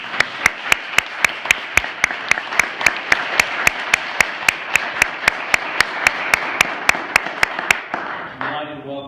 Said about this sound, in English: You could give them a round of applause.